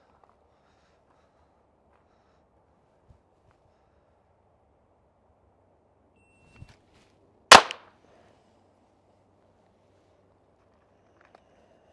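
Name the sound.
Glock 44 .22LR pistol shot, draw to headshot drill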